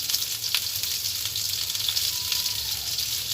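Potatoes fry in a pan with salt, turmeric and chilli powder, giving a steady, dense sizzle that holds at an even level throughout, with no talking.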